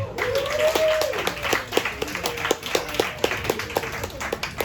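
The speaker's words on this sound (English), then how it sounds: "So please make some noise for Eugene Habanero" A comedy club audience claps as a comedian is brought on stage: brisk, fairly sparse hand claps in an uneven rhythm, with a voice briefly heard at the start.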